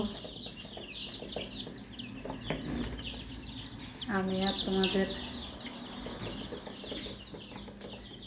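Young chicks cluck and cheep softly in a poultry enclosure, faint and scattered, while a person talks over them and a louder tonal call briefly rises midway.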